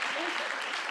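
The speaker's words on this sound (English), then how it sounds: "let's give a round of applause to our panelists" An audience at a diversity networking event applauds the panelists in a brief, dense burst of clapping from many hands.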